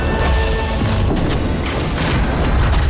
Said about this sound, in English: It explodes in a dazzling burst of light that blinds any nearby vampire caught in its rays.